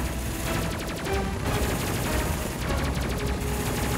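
Ship guns firing at an enemy in the space game Space Crew: rapid, dense bursts of gunfire run continuously and loud throughout, with no talking.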